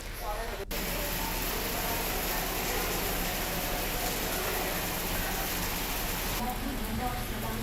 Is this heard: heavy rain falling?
yes